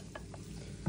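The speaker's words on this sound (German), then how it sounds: "Jetzt machen wir unsere Frühlingszwiebeln rein." Spring onions stirred into a hot pan with toasted bread, a steady low sizzle of frying with a few soft stirring scrapes, close and continuous.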